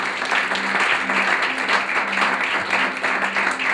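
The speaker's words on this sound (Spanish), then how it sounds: "yo quiero que demos un aplauso a Dios por esas personas" A church congregation applauds during a sermon, steady dense clapping from many hands filling the whole stretch at moderate loudness, with a faint low hum underneath.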